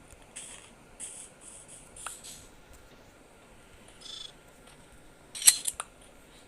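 Shears snipping wool from a sheep in the Minecraft video game: a few quiet, crisp clipping sounds spread over several seconds, with a sharper burst of clicks near the end and no talk.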